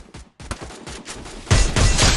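Gunfire in the Free Fire video game: rapid bursts of shots in an uneven rhythm. The shots are sparse at first, then grow into a loud, dense burst of fire in the second half, with no voices.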